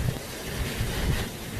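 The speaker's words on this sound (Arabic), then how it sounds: "هاي رياح شهر 7" Strong summer storm wind in the UAE buffets the microphone as a constant roar with low rumbling gusts, loud and unbroken for the whole short stretch.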